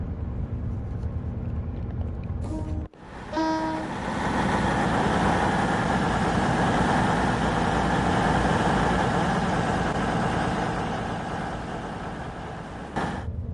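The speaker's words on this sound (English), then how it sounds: "Oh god, we're going 50 miles an hour. Good job this train has good brakes." Train in Train Sim World 6 on the Riviera Line running at about 50 mph, a loud steady rumbling drone with a short break near the start, then a continuous roar that fades slightly at the end.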